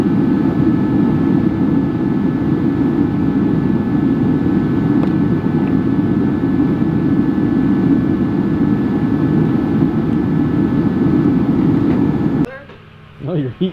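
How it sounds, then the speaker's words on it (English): A heat gun runs with a loud, steady blowing drone and constant whooshing hum close by for about twelve seconds, then cuts off abruptly, leaving quieter sounds. "your heat gun's still going"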